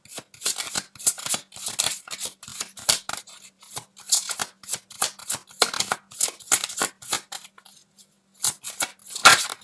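Tarot cards being shuffled and handled in bursts of crisp riffling and snapping, close up, with short pauses between rounds and no talking.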